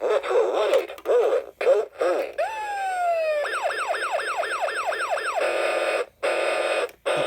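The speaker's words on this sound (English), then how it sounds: "A warble siren and horn." A 1992 Funrise toy fire truck's electronic siren sweeps up in a rising wail, then rapid warbling pulses, followed by a flat buzzing horn blast, loud and close, with short gaps between.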